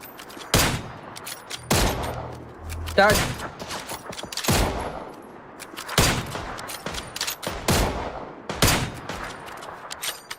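Repeated gunfire bursts in the battle royale game PUBG, loud sharp shots and short volleys spaced through the clip, with faint talk in the background.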